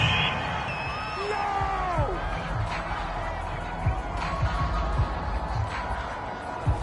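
A large home crowd in an NFL stadium roars steadily throughout, a dense sustained wash of cheering with scattered whistles and whoops, while a commentator talks over it.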